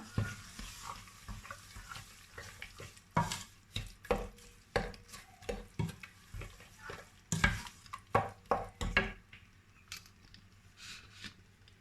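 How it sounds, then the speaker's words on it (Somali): Repeated scraping and clinking of a spoon stirring in a pot, in irregular bursts with short pauses, close up and fairly loud, no talking. "sokortii fruitkaas ku shub waa isku walaaqayaa"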